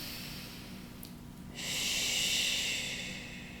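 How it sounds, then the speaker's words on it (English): A single drawn-in breath taken at the start of a children's three-breath prayer, a soft airy inhale that swells midway and then fades, close and alone without talk. "Let's breathe in."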